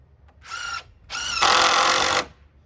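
A power drill drives screws into a wooden DIY two-tier workbench: a short whining burst, then a longer, louder run of high motor whine, close by with no talk.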